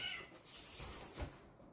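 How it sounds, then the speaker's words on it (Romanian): A pet cat under attack from a tomcat gives a loud, broad hissing burst lasting most of a second, followed by a shorter scuffle thump, all close by with no talking. "Pisica mea a fost atacată de un motan, cred."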